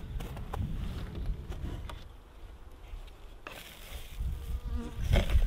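Honey bees at a hive in spring in Alaska make a dense, close buzzing that swells and fades, mixed with light tapping and handling noises.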